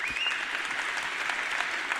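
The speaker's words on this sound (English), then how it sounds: "Give her a round of applause." Audience applause at a motivational talk, a dense, even patter of many hands clapping together for about two seconds at moderate distance, with no voices over it.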